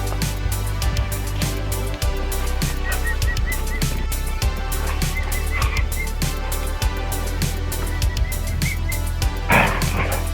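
Several dogs yip, bark and whimper in a busy outdoor farm setting with emu chicks, short sharp calls scattered throughout over a constant low hum, fairly close.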